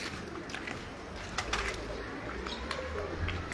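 Breeder pigeons in a loft in DHA coo softly and steadily against a low background hum, with a few faint higher chirps scattered through.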